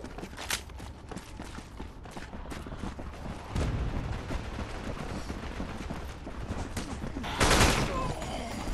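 Gunfire in a zombie shooter on PS5, scattered sharp shots and bursts with a few louder blasts among footsteps and clatter, voices murmuring underneath.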